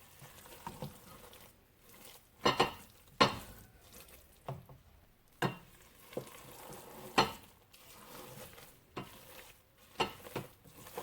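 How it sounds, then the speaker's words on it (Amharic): Meat firfir being stirred slowly in a pan, with spatula scrapes and soft sizzling bursts coming at irregular intervals, close and fairly quiet, with no talk. "እንዳይደርቅ እጨምራለሁ እና ቀስ አድርገን ነው የምናማስለው እንዳይቦካብን።"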